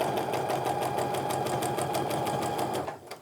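A sewing machine runs steadily in a fast, even stitching rhythm while chain piecing rows of a modern Bargello quilt made from fat quarters, then slows and stops near the end.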